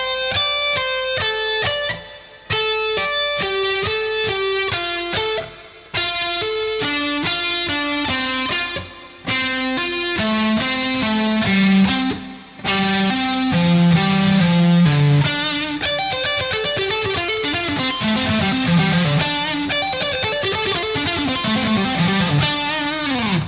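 An electric guitar with distortion plays a lick slowly, with distinct picked notes in runs and a few short gaps between phrases, loud and close with no talking.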